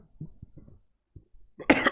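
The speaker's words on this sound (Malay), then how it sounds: "Minta maaf, batuk jap." A man coughs during a Quran tajwid recitation lesson, with a few soft throaty sounds and breaths first, then one sharp loud cough close to the microphone at the end.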